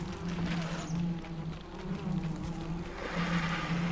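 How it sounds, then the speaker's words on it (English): A bee buzzes in the Ark survival game on Crystal Isle, a steady mid-pitched drone holding for several seconds at moderate level, with a faint hum and ambient wilderness noise underneath. "That bee better fuck off too."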